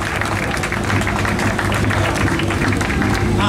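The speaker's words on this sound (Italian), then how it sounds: "un applauso da tutto il pubblico a chi sostiene questo rally" Audience applause for a sponsor at the 9th Porta del Gargano 2019 rally, an outdoor crowd clapping steadily and loudly throughout with a murmur of voices mixed in.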